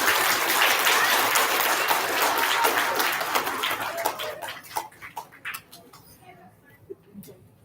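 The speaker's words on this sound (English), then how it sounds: "Give our second grade students a round of applause" An elementary school audience applauds second grade students at a recognition ceremony, a dense burst of clapping that thins into scattered individual claps and fades out, with a few voices mixed in.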